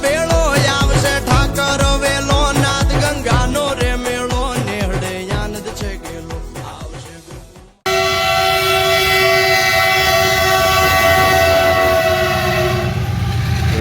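Loud rhythmic clatter of a train passing at Dwarka railway station, then a long, sustained horn blast sounding close and steady.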